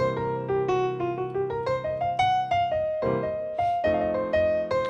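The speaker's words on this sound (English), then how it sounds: "So there is an F dominant 7th chord." Clean, close instrument notes spelling out an F dominant seventh chord and blues-style figures, with a steady run of separate plucked or struck tones rising and falling in pitch, alone with no talking.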